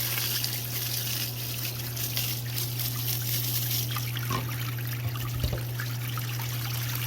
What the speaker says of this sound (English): So we'll get some hot water going.